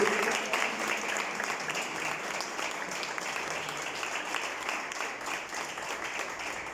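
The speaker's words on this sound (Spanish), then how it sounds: "Démosle un aplauso, bienvenida en el nombre poderoso de Jesús" A church congregation claps in welcome for a visitor from Miami, a dense steady wash of many hands from start to finish with no voices standing out.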